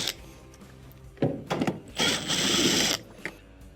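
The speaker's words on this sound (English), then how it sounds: "underneath here, we have 2 T20 Torx screws that have to be taken out" Two small T20 Torx screws being backed out of a washing machine console, heard as short whirring bursts of a driver near 1.2–1.8 s and a longer steady buzz around 2–3 s, close and fairly loud, with no talk.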